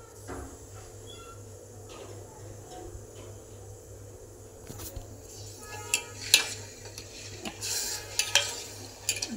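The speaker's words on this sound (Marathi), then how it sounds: "छान अशी साखर ढवळून घ्यायची आहे। त्याच्यात इलायची क्रश करून घालायची।" Sugar being stirred with crushed cardamom in a pan for gulab jamun syrup, a steady soft scraping swirl with a low hum beneath, then sharper metallic clinks of the spoon against the pan growing louder toward the end.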